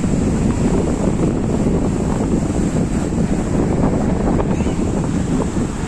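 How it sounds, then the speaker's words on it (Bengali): Rough sea at Digha beach, with loud wind buffeting the microphone over the continuous roar and wash of breaking waves, no speech. "কি উত্তাল সমুদ্র, দেখুন"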